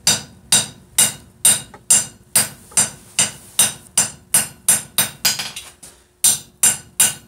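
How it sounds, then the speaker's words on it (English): Steady blows from a lightweight hammer ring out on half-inch steel during vise forging, about two strikes a second, loud and close, with one brief pause before the rhythm resumes. "It's a lightweight hammer, so it's not going to do a whole lot to half-inch material."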